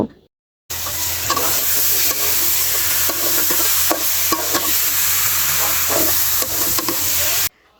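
Chicken pieces from a home-raised country rooster sizzle steadily in a pan of spices, with continuous frying hiss and repeated stirring scrapes, close and loud, with no talk.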